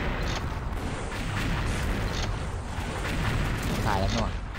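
Gunfire and booming blasts in the shooter game XSHOT, a steady dense stream of muffled shots and explosions at moderate distance, with players talking over the noise.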